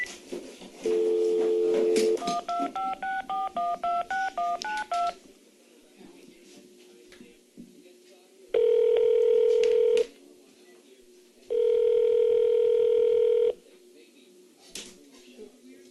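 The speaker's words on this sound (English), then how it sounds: "Aren't these things set to answer after 4 rings?" A telephone is dialed with a quick run of touch-tone beeps, then rings twice in long, loud, evenly spaced bursts with quiet gaps between, and faint room noise in the pauses.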